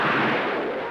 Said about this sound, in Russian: Вот это только один из сотен взрывов здесь